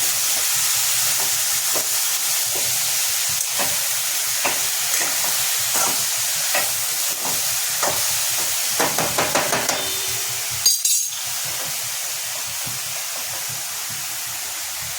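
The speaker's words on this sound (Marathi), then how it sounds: "यात चिरलेला दोडका टाकलेला आहे, त्यालाही छानपैकी हलवून घेऊया" Chopped ridge gourd fries in a pan with a constant loud hiss and sizzle while a spatula scrapes and stirs in scattered taps, with a sharper clatter near the end.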